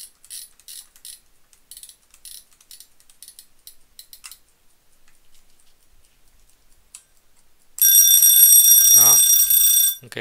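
A vintage mechanical alarm clock rings loudly and continuously for about two seconds with a bright metallic bell clatter, following a stretch of faint ticking and ratcheting as the alarm hand is wound and set.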